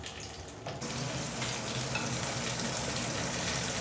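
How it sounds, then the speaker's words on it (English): Pork ribs dropped into hot oil in a claypot, a sudden steady sizzle and crackle that starts after a short quieter moment and then holds loud and even, with no talk. "When the oil is hot, just add in the pork ribs."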